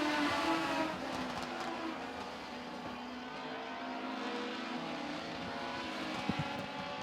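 Race cars lapping the track at Baer Field Motorsports Park, their engines a distant, continuous droning roar that rises and fades slightly as they pass.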